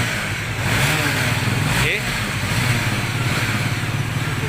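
A Honda Supra motorcycle engine, converted from AC to DC, runs steadily at idle with a continuous mid-low chug close by, alongside people talking.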